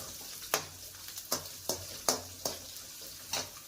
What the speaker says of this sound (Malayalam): ഇതെല്ലാം കൂടിയിട്ടൊന്ന് വഴറ്റിയെടുക്കണം